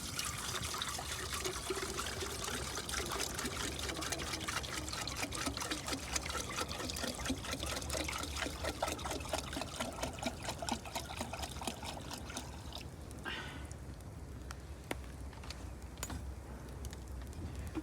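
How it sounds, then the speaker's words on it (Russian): Water being poured into a pot at a forest camp to make coffee, a steady thin trickle and splash that runs continuously, then briefly tapers with small clinks. "Сейчас воду залью."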